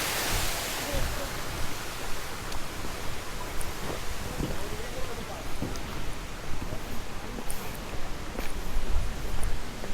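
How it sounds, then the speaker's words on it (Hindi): A mountain waterfall beside the Kedarnath trek path between Gaurikund and Kedarnath roars as a dense, steady rush of water, loud and continuous throughout. "ये देखिए जनाब, ऐसे झरने आपको रास्ते में मिल जाएंगे।"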